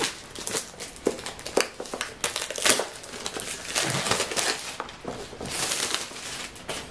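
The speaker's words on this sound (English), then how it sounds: "Opening up the plastic." Plastic packaging around Microsoft Surface Bluetooth headphones is pulled open, giving close, continuous crinkling and crackling with irregular sharper crunches throughout.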